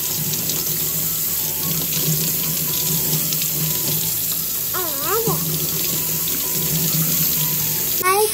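Tap water runs steadily into a sink while a soaked egg is washed, a constant rushing stream that carries through the whole stretch, with a voice briefly heard partway through.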